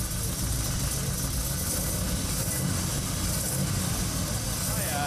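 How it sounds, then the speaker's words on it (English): Classic Ford engine revving at a club car show, a steady, loud, low rumble that holds throughout with little change in pitch, and people talking faintly in the background. "All right, let's get a little bit of rev back here. Let's hear what it sounds like."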